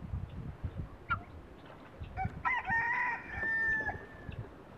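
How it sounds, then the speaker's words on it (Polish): A farmyard rooster calling its hens gives a loud, drawn-out crow near the middle, set against scattered clucks, turkey gobbles and general poultry chatter during feeding. "A kogucik woła swoje kurki."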